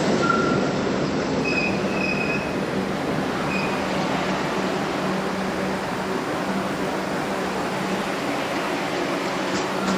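A number 3 subway train pulls into a station with a steady loud rumble, rolling wheel noise and high metallic squeals of the wheels throughout.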